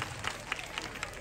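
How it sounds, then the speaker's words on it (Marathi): An audience at a live comedy show in Markal claps rhythmically, a crowd of hands beating in a loose, roughly even pulse at moderate distance. "जोरात टाळ्या वाजवा"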